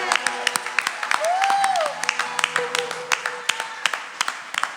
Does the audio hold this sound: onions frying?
no